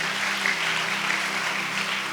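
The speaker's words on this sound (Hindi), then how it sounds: "ताली बजाकर प्रभु को धन्यवाद दे" A church congregation clapping hands together in thanks during a sermon, a dense, even round of applause from many people lasting the whole stretch, with no voices over it.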